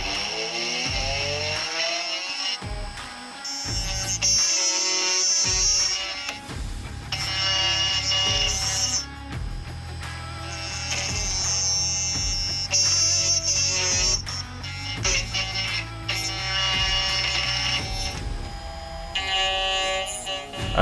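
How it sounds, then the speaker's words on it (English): A milling machine cuts two slots into an aluminium motorcycle phone mount, a loud, close, high-pitched whining and buzzing cut that runs in long stretches, with brief pauses and changes in pitch between passes. "I go ahead and mill the 2 slots."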